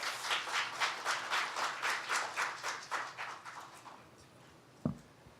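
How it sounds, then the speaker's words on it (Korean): An audience claps in welcome for a speaker at a 2018 agricultural policy forum and results presentation. The applause is steady and fairly close, then tapers off over about four seconds, followed by a single soft thump. "큰 박수로 환영해 주시기 바랍니다."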